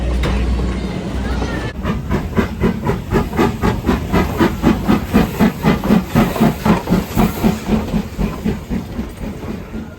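A steam locomotive at Strasburg Railroad hisses loudly, then settles into a rapid rhythmic chuffing of repeated steam bursts as it gets moving, close and strong throughout.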